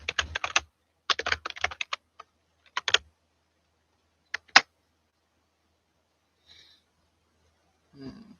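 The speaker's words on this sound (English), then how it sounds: "So I got a lot of typing going here." Typing on a computer keyboard during a live trading session: quick bursts of close, crisp key clicks separated by pauses, then a few isolated taps and a faint breath near the end.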